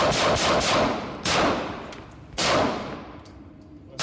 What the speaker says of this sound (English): There's very little muzzle rise as I perform this quadruple tap.